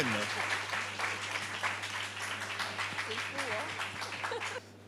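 Audience applause for a magician at an evening magic show, a dense steady wash of clapping that runs nearly five seconds before cutting off, with a constant low hum and some voices underneath.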